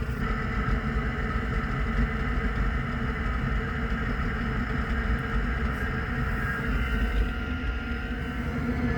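A brand-new diesel heater running steadily while burning off excess diesel on start-up, giving a continuous low rumbling hum with a mechanical drone throughout and no talk.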